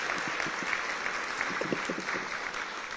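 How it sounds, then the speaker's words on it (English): An audience at a service dog graduation ceremony gives a round of applause, moderately loud steady clapping with some distinct individual claps audible, heard indoors without talk. "How about a big round of applause?"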